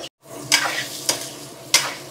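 Jackfruit seeds are stirred and fried in a pan, with a steady close sizzle broken by three scraping strokes of a spoon or spatula against the metal, and no talking.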